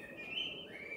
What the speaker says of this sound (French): accompagné par Merle et ses belles mélodies.